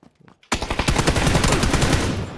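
Automatic weapon fire in the video game PUBG: after a brief faint murmur, a loud, close, rapid burst of shots rattles continuously until the end.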